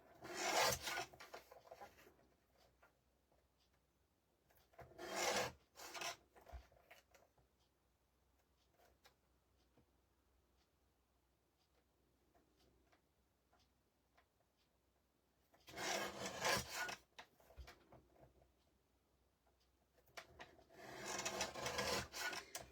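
Patterned scrapbook paper is trimmed with a rasping, sliding cut in four separate bursts, with quiet pauses between them, close and fairly soft.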